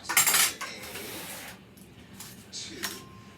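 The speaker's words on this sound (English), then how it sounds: "I'm going to get a spreader or some type of a knife form that I can spread this out evenly." A knife scrapes and taps while spreading cream cheese filling for a breakfast crescent roll dish, with a loud scrape at the start, then quieter intermittent strokes and clinks.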